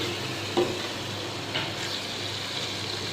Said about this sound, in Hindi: इन सारे मसाला जात को हमने 7 से 8 मिनट अच्छी तरह भून लेना है।